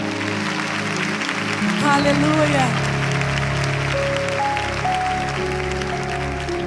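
A church congregation applauds, a broad wash of clapping that rises after a few seconds while voices call out and a preacher's sung or spoken lines carry over it.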